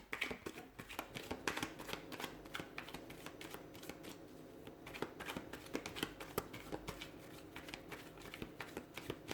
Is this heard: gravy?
no